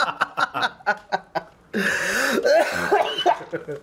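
A series of short, harsh coughs comes in quick bursts, followed by a longer rough fit of coughing mixed with strained, laughing vocal sounds.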